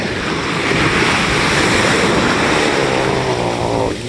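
Ocean surf breaking around a person standing waist deep in the sea in January, a loud continuous wash of waves with heavy wind buffeting the microphone and no talk.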